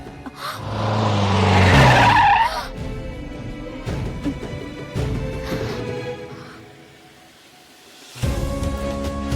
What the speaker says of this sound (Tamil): எதுக்கு இப்படி சடனா பிரேக் போட்ட?